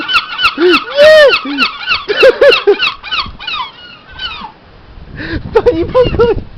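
A gull calls repeatedly in loud, close squawks and honking cries, some drawn out, with a short pause before another burst of calls near the end.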